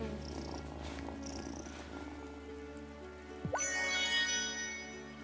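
A cat purrs in the video game Wylde Flowers, a steady low rumble running underneath soft game music, joined near the end by a brighter chiming sound.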